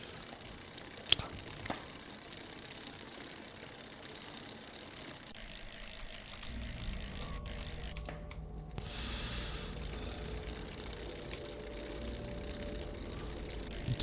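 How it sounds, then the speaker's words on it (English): Bicycle ridden down a street in the video game Newspaper Day, giving a quiet continuous ratcheting freewheel tick with a low rolling hum. "You get to ride a bike down the street."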